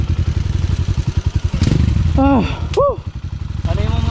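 A Rusi enduro motorcycle on a dirt trail runs close by with a fast, pulsing, chugging beat that swells and fades, while excited voices call out over the engine.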